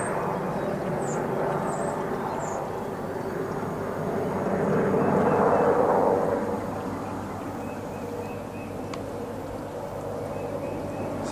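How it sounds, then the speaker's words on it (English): A Marine-type presidential helicopter passes overhead at a farm near Washington, D.C.: a steady, distant drone that swells louder in the middle and then slowly recedes, with no talking. "I believe that's one of the marine type helicopters that the president uses."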